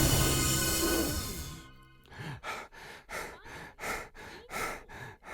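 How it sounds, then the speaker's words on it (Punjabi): A wolf angrily blows breath from its mouth in a long, loud rushing exhale, followed by a series of rhythmic puffing breaths, each swelling and fading in a steady run with no talk. "ਭੇੜੀਏ ਨੇ ਗੁੱਸੇ ਵਿੱਚ ਆਪਣੇ ਮੂੰਹ ਵਿੱਚੋਂ ਸਾਹ ਛੱਡਿਆ"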